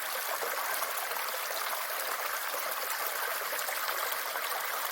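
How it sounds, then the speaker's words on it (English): Spring water cascades down stepped rock ledges beside the Appalachian Trail, a steady, close, full-bodied rush and splash that holds constant throughout with no voices. "this spring or stream where the water cascades off of the different levels"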